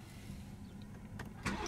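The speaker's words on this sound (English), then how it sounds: "we do have a 3-liter turbocharged 6-cylinder engine that you're hearing there" A 2017 BMW 540i M Sport with a 3.0-liter turbocharged six-cylinder fires up via push-button ignition, a faint low hum under a brief starter whir before the engine catches near the end.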